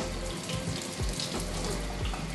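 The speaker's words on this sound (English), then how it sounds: "Once a week, you're gonna go ahead and give this a simple rinse under the sink." The brewing unit of a Delonghi Dinamica Plus coffee machine is rinsed under a running sink tap, a loud steady splashing gush with a few thudding changes as the part shifts in the stream.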